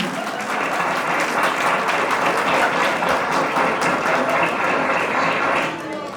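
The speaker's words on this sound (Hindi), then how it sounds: "तो बजाओ ताली" A crowd at an Engineers Day stage play at a power house claps loudly and steadily for several seconds, a dense, sustained round of applause.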